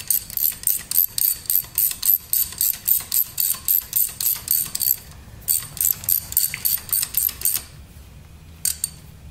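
A ratchet snugs spark plugs into the aluminum head of a 2.2L Saturn Ion engine, giving rapid bursts of crisp close clicking in a steady back-and-forth rhythm, with a brief pause before a final short run.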